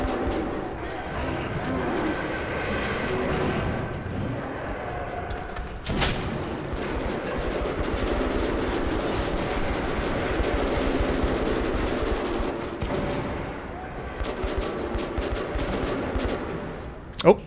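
Sustained bursts of automatic gunfire from the shooter game Metro Redux, loud and close, running almost continuously with a sharp burst near the middle and brief pauses near the end.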